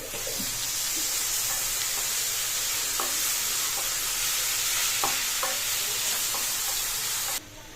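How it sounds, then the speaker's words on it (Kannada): A tomato frying in oil in a pan for a mutton fry, with a steady bright sizzle and occasional stirring clinks against the pan, continuous and close with no talk. "ಒಂದು ಟೊಮೆಟೊ ಹಾಕೋತಿದ್ದೀನಿ ಟೊಮೆಟೊ ಕಂಪ್ಲೀಟಾಗಿ ಸಾಫ್ಟಾಗಿ ಎಣ್ಣೆ ಬಿಟ್ಕೋಬೇಕು ಅಲ್ಲಿವರೆಗೂ ನೀಟಾಗಿ ಫ್ರೈ ಮಾಡಿ"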